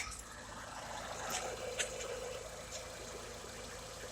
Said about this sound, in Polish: posłuchamy sobie teraz jak chodzi silnik